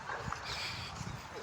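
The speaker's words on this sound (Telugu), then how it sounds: "కుక్కలు ఉన్నాయి, చాలా జాగ్రత్తగా ఉంటాయి." Dogs bark softly and whimper nearby, brief yips over a quiet background as a person speaks.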